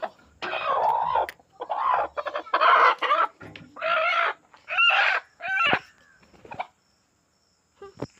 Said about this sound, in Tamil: இப்போ இந்த கோழி அடைக்க போகுது